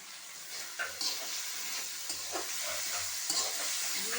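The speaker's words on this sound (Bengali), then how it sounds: "একসঙ্গে মশলাটা আমি ভালো করে কষিয়ে নেব" Whole cardamom, cinnamon and black pepper sizzle with a spice masala in hot oil, broad steady frying hiss broken by several scraping stirs of a spoon against the pan.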